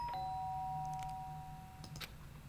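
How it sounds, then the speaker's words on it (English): Doorbell chime in the video game Danganronpa: Trigger Happy Havoc, a single sustained ring sounding clearly over a low steady hum, followed by a few faint clicks. "the sound of the doorbell forced its way into my room."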